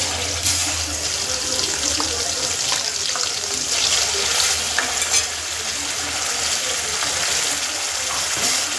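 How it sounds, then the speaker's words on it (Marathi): Spice masala sizzling in hot oil for mutton curry, a steady crackling fry with occasional stirring scrapes, close and continuous throughout. "तेल तापले. आता टाकले मसाला."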